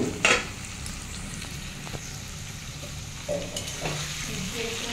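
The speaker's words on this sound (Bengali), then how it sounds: "আমার আলুটা ভাজা হয়ে গেছে" Potatoes fry in a pan as part of a thin potato, parwal and puti fish jhol, giving a steady close sizzle with a few scraping stirs and light clinks, and no voices.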